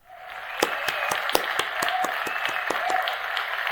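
Applause sound effect looping in an app, a recorded burst of crowd clapping with sharp individual claps standing out, fading in and holding steady at moderate loudness, with no voices over it.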